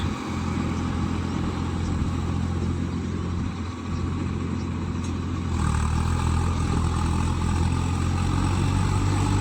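A tractor engine runs steadily with its rotor spinning hard in a muddy rice field being puddled, a continuous rumbling drone that grows louder and fuller partway through.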